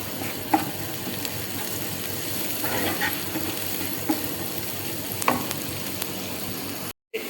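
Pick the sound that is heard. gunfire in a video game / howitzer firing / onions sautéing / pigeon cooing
onions sautéing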